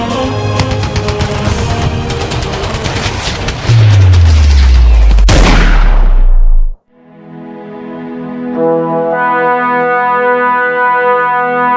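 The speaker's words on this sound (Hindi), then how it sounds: "कवर फायर दो इसे।" Staged gunfire in a school Independence Day skit, loud rapid bursts of shots building to a heavy boom that cuts off suddenly, then a sustained tonal music passage follows.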